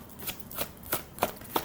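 Angel blessing oracle cards being handled and shuffled close up, five crisp riffling bursts in an even rhythm with no talking.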